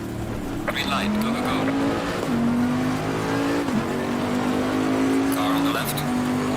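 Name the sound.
GT3 race car accelerating in Assetto Corsa Competizione video game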